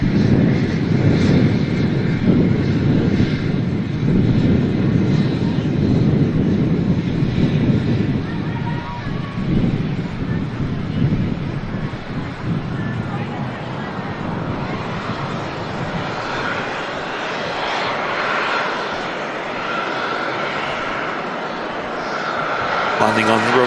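An Emirates Airbus A380 lands on a runway at Manchester Airport, heard as a loud, continuous jet roar mixed with wind buffeting on the microphone and someone talking over it.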